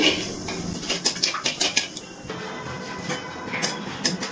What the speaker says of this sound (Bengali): একটু তেলে ফোড়নটাকে নাড়াচাড়া করে নিচ্ছি